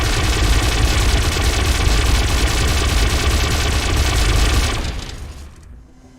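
Dense, loud sustained blast of anti-air cannon fire in the Arma 3 video game, a continuous booming barrage that drops off and fades out over the final second or so.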